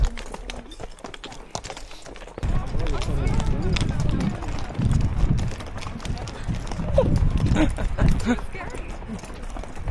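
Horse hooves clip-clop in a steady rhythm during a trail ride at Kaindy Lake, Kazakhstan, close and fairly loud beneath frequent conversation among the riders, with wind and rustling noise around them.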